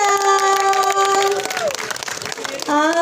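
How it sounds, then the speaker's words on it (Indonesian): Applause from an audience at a press conference patters steadily beneath a strong, sustained tonal layer, then briefly thins before swelling again. "kita berikan tepuk tangan sekali lagi dong"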